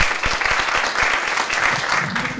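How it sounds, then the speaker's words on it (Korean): An audience claps warmly to welcome performers onto a small traditional-theater stage at an arts house; loud, sustained applause with individual sharp claps standing out close by, continuing evenly without speech. "큰 박수로 맞아 주시기 바랍니다"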